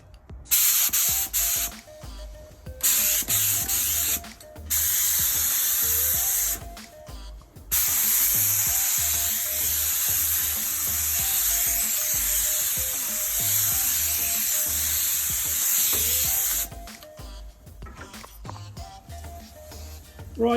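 A spray gun putting the third coat of paint on an Audi Quattro body panel, heard as close, loud hissing bursts, some short and one long steady blast of about nine seconds, with gaps between them.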